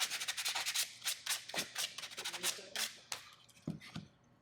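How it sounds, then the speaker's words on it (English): Sandpaper rubbed by hand against the top corner of a wooden birdhouse, a series of short scratchy strokes in an uneven rhythm, close and fairly quiet, with a couple of soft knocks. "I'm just going to take a little bit of sandpaper and I'm just going to touch that top corner"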